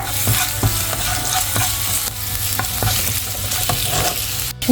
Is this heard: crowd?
no